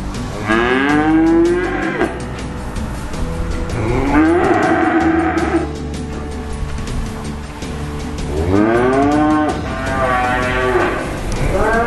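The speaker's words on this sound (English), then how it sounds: "Many farmers have now got cattle housed inside." Several cattle moo loudly and at length, three drawn-out calls overlapping one another against a steady indoor hum, as if in an enclosed barn.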